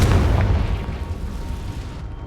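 A Confringo spell blasts in Hogwarts Legacy, a heavy low boom that rumbles and slowly fades over a couple of seconds with no one talking.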